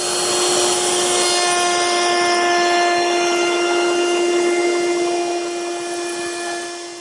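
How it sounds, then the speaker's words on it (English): A router table cuts a bead profile with a 1/4-inch beading bit, a steady loud high whine of the spinning bit and motor holding for several seconds with the cut's rough rasp beneath, easing slightly toward the end. "I'm using a 1/4-inch beading bit to make that detail."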